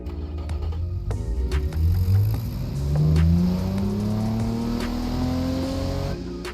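A custom-tuned engine in a Hakosuka rival car built in Automation and driven in BeamNG revs up and down, its rising whine climbing in pitch through the gears, loud and close with no talk.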